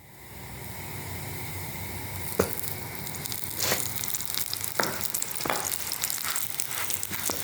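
Chapati frying on a hot stone griddle with ghee, a continuous crackling sizzle that builds slightly, with a few sharp scrapes and pats of a spatula along the way.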